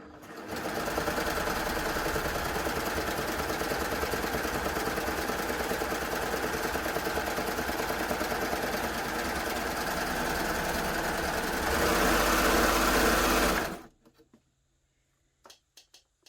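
A Baby Lock Gloria cover stitch machine sews through doubled thick fleece with a long, steady, close-up whirring run of about fourteen seconds that rises slightly near the end before stopping abruptly, leaving a few faint clicks.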